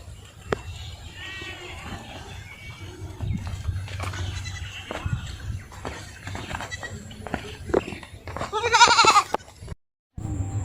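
Goats resting at the end of a bridge in a village bleat intermittently amid outdoor noise, with one loud, close bleat standing out near the end, followed by a brief silence.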